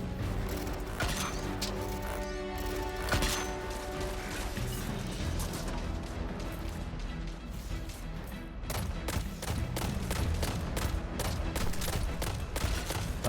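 Gunfire and arc shotgun blasts in Destiny during a Grandmaster Nightfall strike, rapid repeated shots and impacts layered over game music and effects, fairly busy and continuous.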